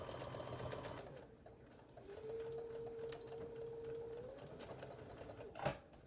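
Sewing machine stitching a seam on an embroidered accessory case, a steady mechanical whirr running for a few seconds at moderate loudness, fairly close, ending in a short clack as it stops.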